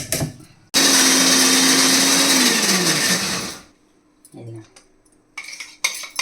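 A mixer grinder whirs loudly for about three seconds blending a watery mixture, then winds down, followed by clinks and faint rattling of the jar.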